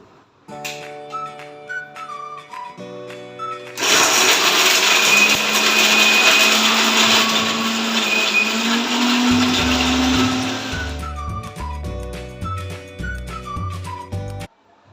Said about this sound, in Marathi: हे झाकण लावून आपण वाटून घेऊया